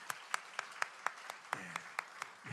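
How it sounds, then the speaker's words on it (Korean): A church congregation claps to welcome a newly registered member, a short run of about ten evenly spaced claps that sounds like a small group or a single pair of hands nearby. "우리 환영의 박수 하도록 하겠습니다"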